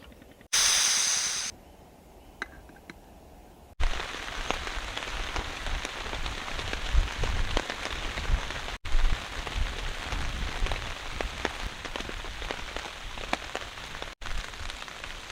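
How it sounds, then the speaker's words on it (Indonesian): Heavy rain pours down on a hilltop campsite during a storm, a loud continuous hiss of drops drumming on surfaces, preceded by a brief burst of other noise. "ini kita lagi kehujanan di Bukit Madok"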